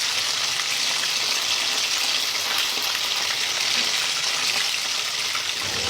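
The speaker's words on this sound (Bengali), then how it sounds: "এখন আমি এপাট ওপাট করে উল্টিয়ে ভালো করে ভেজে নেব।" Chicken frying in hot oil in a pan, a steady dense hiss of sizzling that runs unbroken and fairly loud throughout, with no voices.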